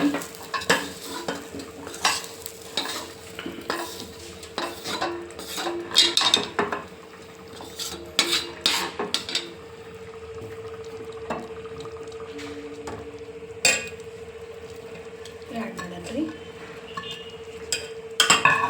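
Bitter gourd palya being stirred in a pan over a low gas flame, with irregular scraping and clinking of a utensil against the pan, a soft sizzle underneath and quieter stretches between the strokes.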